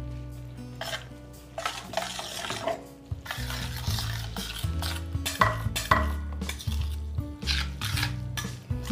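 Pasta cooked in marinara sauce, stirred in a pan with repeated scraping and knocking of a utensil against the pot over a soft simmer, close up and without talk.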